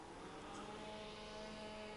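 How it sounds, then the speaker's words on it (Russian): Tractor engine rumbling far off across a village on a calm evening, a steady low hum with no other sounds standing out. "Где-то кто-то трактор заводит."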